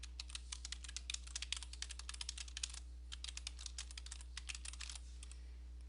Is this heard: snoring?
no